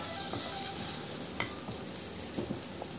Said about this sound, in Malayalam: ജിഞ്ചറും ഈ സവാളയും കൂടി ഒന്ന് സോട്ട് ചെയ്യുക